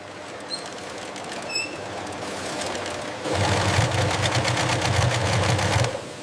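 An industrial sewing machine in a camel leather factory starts up partway through and runs in a fast, steady mechanical whir. Before it starts, faint clicks and a few high beeps sound over a low hum of machinery.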